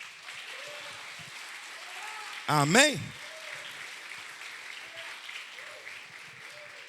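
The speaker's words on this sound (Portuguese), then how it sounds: "Dê um forte aplauso ao Senhor." A church congregation claps steadily throughout, a broad continuous patter, while a single voice calls out briefly and tunefully midway.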